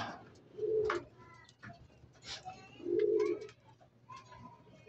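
A pet pigeon coos twice, in two low throaty bursts at moderate distance, with faint chirps from other birds and a steady low hum in the background.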